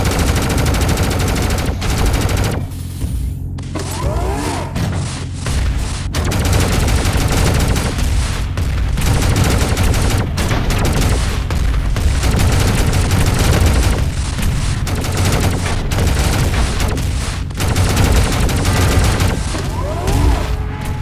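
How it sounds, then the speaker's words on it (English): Rifle fire in the game Dysmantle during a boss fight. Loud, heavy gunfire repeats densely across the whole stretch over a constant rumbling game soundtrack, with one brief lull near the start. "Wait, I guess we can try to use the rifle"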